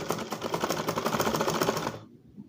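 A sewing machine stitches the round dinner collar of a kameez with a rapid, evenly pulsing mechanical clatter heard up close. It runs for about two seconds, then stops abruptly, leaving near silence.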